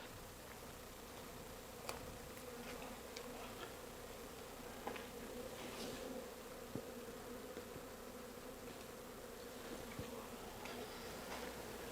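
Steady buzzing of many honey bees at a hive in winter, a continuous drone with occasional faint clicks and knocks throughout.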